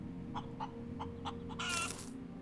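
A chicken in the space-survival game Breathedge clucks four soft, regular times, then gives a louder, brighter squawk over a steady synthetic hum.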